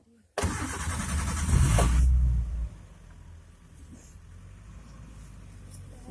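A safari vehicle's engine in Bandhavgarh Tiger Reserve, Madhya Pradesh, starts loudly and nearby, roars for about two seconds, then settles into a low, steady idle rumble for the rest of the time, with no talk.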